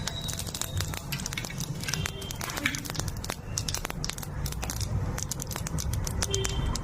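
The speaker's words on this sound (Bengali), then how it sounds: "তেলটা গরম হয়ে গেছে, রাঁধুনি দিচ্ছি ফোড়নে" Radhuni seeds dropped into hot oil in a kadai for tempering fish curry give a dense, steady crackling sizzle with sharp spitting pops throughout, close and fairly loud, with no one talking.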